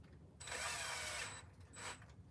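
A handheld power drill whirs in two short bursts, a longer run then a brief second spin, fairly close and moderately loud with no talking, on a do-it-yourself build of a Bobber 500 motorcycle.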